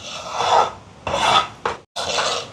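A spoon stirs water and ingredients in a cooking pot for soya meat biryani, making close, rough scraping strokes: three long rasps, a short one, then another long rasp after a brief silence.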